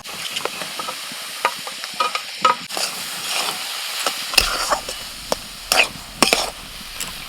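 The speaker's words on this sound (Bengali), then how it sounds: "নাড়াচাড়া করতে করতে কপির অনেকটা জল শুকিয়ে গেছে" Cauliflower with salt and turmeric stirred in a hot pan for a Bengali fulkopir dhoka, with a spoon scraping and knocking against the pan in repeated strokes over a steady low sizzle, close and fairly loud, no voices.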